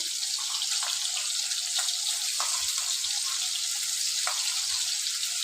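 A ground paste of green chili, peanut and coriander fries in a pan, giving a steady hissing sizzle with scattered soft pops and clinks throughout.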